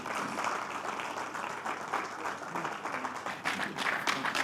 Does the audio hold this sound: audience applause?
yes